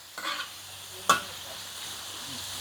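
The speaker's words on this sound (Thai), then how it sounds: "ผัดให้หมูสุกประมาณเก้าสิบเปอร์เซ็นค่ะ" Pork strips are stir-fried in a pan for a bean sprout dish, a soft sizzle under a brief scrape of the spatula and one sharp clack against the pan, quiet and close with no talk.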